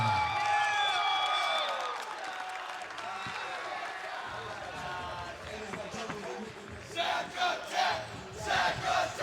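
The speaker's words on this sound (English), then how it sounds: "big crowd response" A crowd cheers and yells after a unanimous-decision MMA win at APFC 3, a loud sustained roar with whoops and surging bursts of clapping toward the end.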